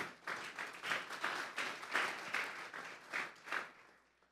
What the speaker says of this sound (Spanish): Vamos a darle un fuerte aplauso pues al Señor esta tarde.